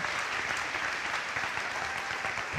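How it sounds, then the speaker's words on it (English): An audience at a high school commencement ceremony breaks into continuous applause, a thick, even patter of many hands that stays steady for the whole stretch. "Another round of applause, please."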